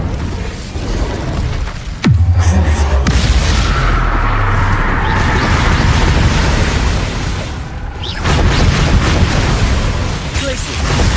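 A fiery Incendio spell blast in Hogwarts Legacy, a sharp booming burst at about two seconds followed by a sustained roaring rumble, with a second surge near eight seconds amid loud game action.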